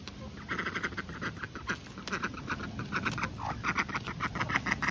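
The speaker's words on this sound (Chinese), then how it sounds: "哦，小鸭鸭，你光叫有什么用？" A duckling on a farm quacks repeatedly in quick, sharp bursts, close by, among other farm birds, with a voice speaking faintly at times.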